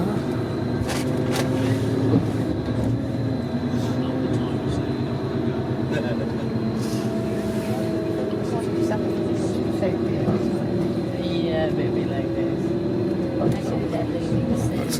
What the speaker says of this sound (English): It's amazing really, we're driving inside the train.